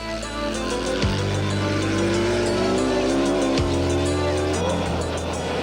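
Off-road race cars at the Sun City 400 desert race in 1989 roar steadily back into the stadium, loud engine drone with rising and falling revs and gear changes, continuous and close.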